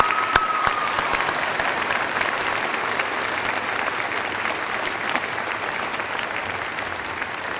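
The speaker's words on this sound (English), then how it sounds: "Please join me in a round of applause for our valedictorians and the rest of UVU's outstanding students" A commencement audience at a university graduation applauds its valedictorians and graduating students, a dense, steady wash of many hands clapping that holds at full strength for several seconds without pause.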